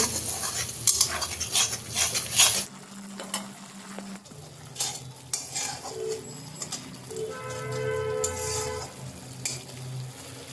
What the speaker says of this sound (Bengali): মশলাটাকে এবারে ভালোভাবে কষিয়ে নেব